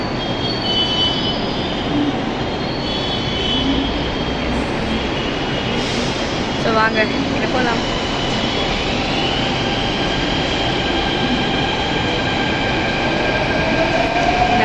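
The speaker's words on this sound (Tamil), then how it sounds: "மெட்ரோ வந்து அந்த சைடு வந்துருச்சு" A metro train arrives at a station with a loud, continuous roar of wheels on rails, rising and falling, with faint squeals and a brief rhythmic clatter midway. One person speaks briefly over it.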